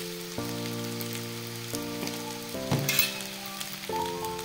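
Potatoes fry with turmeric in a pan, giving a soft, steady sizzle that sits beneath louder background music with sustained tones.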